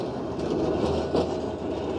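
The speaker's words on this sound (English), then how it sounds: "Check it out, we've got the old trams running. This is Balloon 717." An old Blackpool Balloon tram, number 717, runs along the street with a steady, close rumble of wheels on rail and a faint clickety-clack, rising briefly midway.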